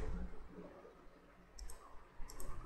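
Computer keyboard keys are typed in scattered quick clicks, a few light taps early and then small bursts of close, crisp keystrokes toward the end, with no talking.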